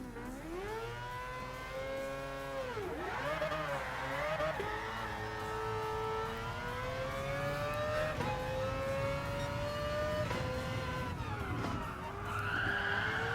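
A Mazda RX-Vision GT3 concept race car launches hard in Gran Turismo Sport, its engine wailing and climbing through gears while the tires squeal and skid loudly and continuously throughout.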